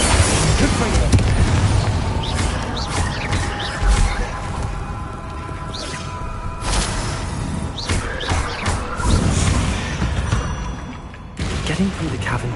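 Confringo fire spells blasting in the video game Hogwarts Legacy on PS5: repeated booming bursts erupt over a dense, continuous bed of game music and ambience, with a few sharper pops standing out.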